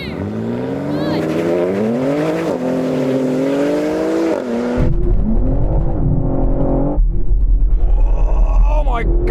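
A BMW M car launches in a drag race with its wheels spinning, a loud, steady engine roar swelling into a harsh, sustained rumble as the tyres break loose, with voices talking over the start.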